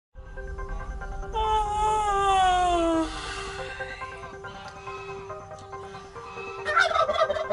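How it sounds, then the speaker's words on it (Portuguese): Chickens calling inside a henhouse, drawn-out squawking cries that rise and fall, ending with a burst of excited clucking. "Pessoal, eu tô dentro de um galinheiro."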